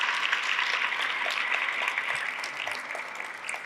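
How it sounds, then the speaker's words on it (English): A gala crowd gives a sustained round of applause, steady and full-bodied clapping from many hands that continues without a break and eases slightly toward the end. "let's give a big round of applause to Monica Morales, who's been working so har"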